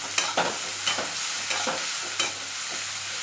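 Capsicum, tomato and garlic sizzle in a hot pan as a spoon stirs them in several quick scraping strokes over a constant hiss, close up, with no voices.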